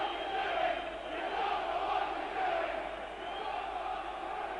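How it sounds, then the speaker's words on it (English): Burnley football fans in a stadium boo in a sustained, rolling roar during a 2001 match against Crystal Palace, a broad, far-off crowd sound that swells and dips without a break. "Very much like a foreign stadium with all this booing and whistling."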